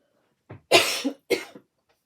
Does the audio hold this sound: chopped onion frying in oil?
no